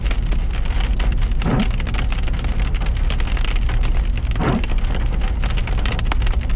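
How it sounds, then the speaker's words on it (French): A dense, loud patter of hailstones hitting surfaces during a spring storm continues without a break, with occasional heavier thuds rising out of the steady roar. "La grêle va arriver parce que là, de temps en temps, j'entends des gros bruits."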